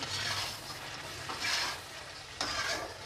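Green chillies frying in a karahi of chicken, a dense steady sizzle with rhythmic swells as the mixture is stirred and scraped, close and loud with no voices.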